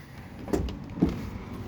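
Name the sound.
camper trailer door being shut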